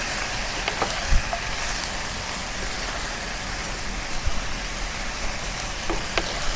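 Bean sprouts, tofu and green onions stir-frying in a wok give a dense, even sizzle like light rain. A few sharp clicks and scrapes from stirring sound close, and nobody speaks.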